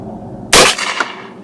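One loud shotgun report fired while testing choke pattern density, a sharp close blast followed by a fading echo and a faint second crack.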